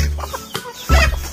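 Native chickens give a few short, close clucks with a low rumble underneath, a quick burst of bird sounds over a steady background hum.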